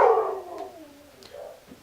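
A neighbour's dog barks at the postman, one drawn-out, falling howl-like bark that starts loud and fades into softer whining. No voices are heard.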